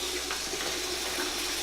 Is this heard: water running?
yes